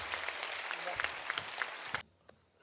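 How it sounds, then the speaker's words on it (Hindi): An audience claps at a Hindi poetry event in Kolkata, dense steady applause with sharp individual claps that stops abruptly near the end, leaving faint room noise. "एक बार इस बच्चे के लिए तालियां बजाइए, दोनों हाथ उठाकर"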